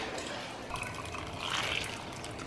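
Orange juice squeezed out of a carton into a pot while making Russian tea, a steady liquid pouring and trickling sound that stays close and fairly even for a couple of seconds, swelling slightly toward the end, with no talking.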